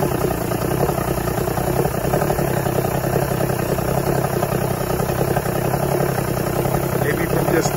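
A 1986 Force 85 hp outboard engine on a Bayliner boat idles steadily, a continuous rough mid-low rumble with fast regular firing pulses at close range, no talking.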